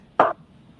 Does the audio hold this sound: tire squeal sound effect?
no